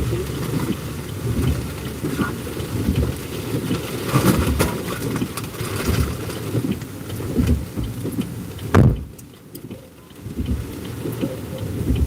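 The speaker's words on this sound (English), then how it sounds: "The rain is no joke" Heavy rain pours steadily in a dense, hissing wash, with a sharp crack or thump near the end before the downpour settles back in.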